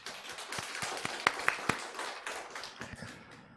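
Church congregation applauding during a Sunday afternoon service, a sparse and fairly quiet patter of scattered claps with a few sharper single claps standing out, heard from some distance in the sanctuary.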